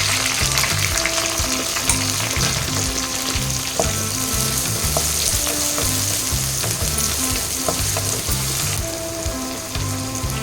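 Onions and green chillies fry in oil for vegetable egg noodles, giving a loud, dense, close-up sizzle that holds steady throughout, with faint stirring and no talking.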